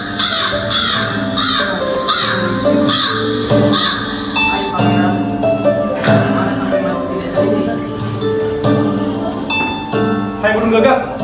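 Black crow cawing repeatedly and loudly in a school drama performance, harsh rhythmic calls mixed with bell-like tones and voices talking throughout.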